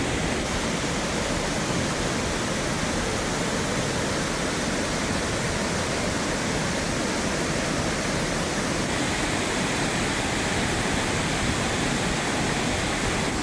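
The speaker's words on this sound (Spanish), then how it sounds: "Sí, cascadas bebés, dice la Cata." Small waterfalls tucked among trees and shrubs in a forest near Curarrehue and Pucón give off a constant, dense rush of falling water, steady and unbroken throughout with no voices.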